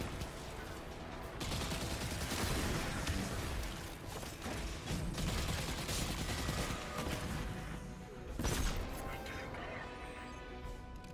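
Rapid submachine gun fire in Destiny 2: Lightfall, rattling bursts over busy combat noise with mechanical clatter and a sharper burst near the end, with some talk mixed in.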